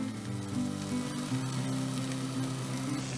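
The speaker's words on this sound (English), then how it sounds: "I'll add 2 tablespoons of salted butter." Two tablespoons of salted butter sizzle steadily in a pan beside sautéed masala while making kale saag, a continuous close crackle and hiss with no talking.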